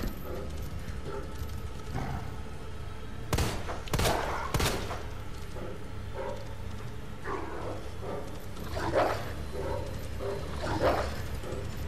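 A dog in Resident Evil 2 barks and yelps several times amid gunfire, with sharp loud shots clustered early and recurring barks scattered over a rumbling game background.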